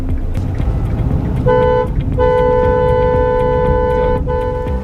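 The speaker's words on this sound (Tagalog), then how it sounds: "I will record how the horn of the car sounds while moving in that direction." A car horn honks twice over steady engine and road rumble, a short blast followed by a longer sustained one, loud and close.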